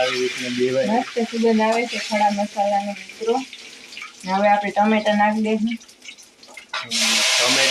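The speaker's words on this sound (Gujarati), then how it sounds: "તો દાળ વઘાર લઉં તેલ થઈ ગઈ હતી જીરું નાખી દીધું" Cumin with whole spices like cinnamon and cloves sizzles in hot oil for a Gujarati dal tempering, a loud crackling hiss that surges near the end, with someone talking over it throughout.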